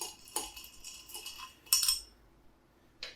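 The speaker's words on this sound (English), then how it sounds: "I'm going to give it a little stir first." A spoon stirs a drink being topped with club soda in a glass, giving light, close clinks and taps in short bursts with quiet gaps between.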